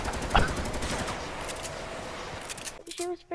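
Rapid gunfire from the Fortnite video game rattles in a dense burst, then trails off into a few scattered shots and a brief tonal game effect at the end.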